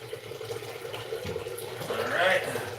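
Filtered water runs into a container from a tap at a low, steady trickle, rising slightly as it fills, while a person talks quietly nearby.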